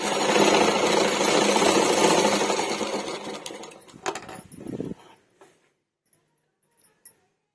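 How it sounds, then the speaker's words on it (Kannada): A sewing machine runs steadily, stitching the side seam of a blouse being altered at the front neck. The motor whirs loudly for about five seconds, then stops, followed by a few faint clicks and taps. "ಇದೇ ರೀತಿ ನಾನು ಇನ್ನೊಂದು ಸೈಡು ಸ್ಟಿಚ್ ಮಾಡ್ಕೊತೀನಿ"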